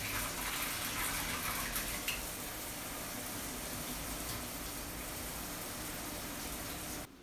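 A commercial kitchen dishwasher fills with water, a steady, faint rushing hiss that runs unbroken for several seconds before cutting off abruptly at the end.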